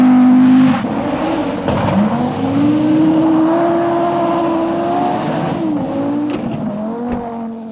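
An Audi RS3 2022 with its five-cylinder engine revs loudly and close, a steady strained drone that climbs in pitch after a sharp opening burst, with brief blips of throttle near the end.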